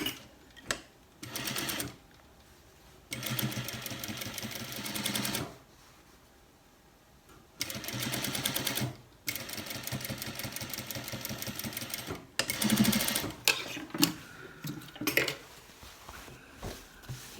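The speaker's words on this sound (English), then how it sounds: "And then I sew on the face of the garment, covering the previous seam." A sewing machine stitching a front pocket onto cargo pants runs in several bursts of rapid, steady mechanical whirring and clatter, separated by short pauses, with a few light clicks and handling taps near the end.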